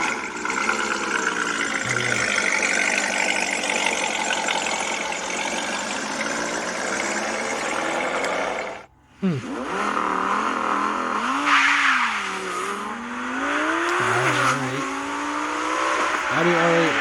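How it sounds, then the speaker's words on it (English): A V10 sports car engine, an Audi R8 or Lamborghini Huracan, revs loudly and continuously for most of the clip, with a sudden brief lift-off near the middle before rising, sweeping revs resume. "Audi R8 or Huracan. That one V10."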